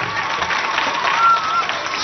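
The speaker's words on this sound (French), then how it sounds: "Alors, on applaudit pour moi" A school audience applauds during a dance event at a Catholic school, a band-limited crowd clapping that stays steady and fairly loud, with some murmur of voices mixed underneath.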